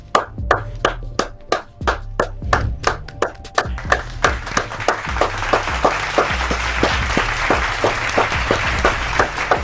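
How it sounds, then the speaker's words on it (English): Several people at a football watch party for a Jacksonville Jaguars vs. Dallas Cowboys game clap together, starting as sharp, evenly spaced claps and swelling into denser, continuous applause over low background music. "go ahead and clap it up."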